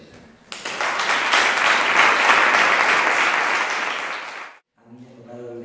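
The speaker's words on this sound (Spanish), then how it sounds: "merecemos darle un gran aplauso a nuestra ilustre" Audience applause at a women writers' day event in El Barco de Ávila, a dense, sustained round of clapping lasting several seconds before cutting off abruptly, after which a voice begins speaking.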